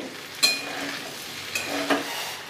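A spoon stirs Bengali pumpkin curry in a frying pan, a soft sizzle running throughout, broken by a few short scrapes against the pan.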